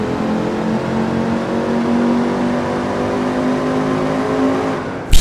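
An Audi Quattro's engine in the video game Gran Turismo 4 drones steadily through a tunnel, a loud sustained rasp with held harmonic tones and no speech.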